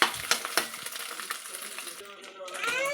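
A spatula stirs egg fried rice in a hot pan, the scraping and clinking strokes sounding over a steady sizzle, with a few sharper metal taps early on and the frying growing brighter toward the end.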